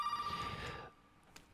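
In Resident Evil 7, an old telephone bell rings in one sustained burst, then cuts off, leaving a faint quiet room.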